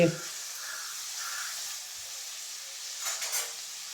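Onion pieces fry in oil for a Telugu fish curry with a soft, steady sizzle and hiss, a faint thump at the start and a few louder crackles near the end.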